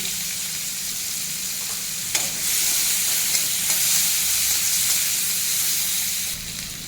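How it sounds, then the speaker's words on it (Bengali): Chopped onion frying in mustard oil in a kadai, a steady close sizzle that swells louder partway through as stirring begins, then eases back near the end. "এখন দেবো পেঁয়াজ কুচি"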